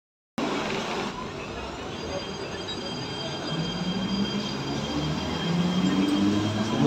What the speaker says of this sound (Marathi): ही ट्रेन चाललेली आहे पनवेलला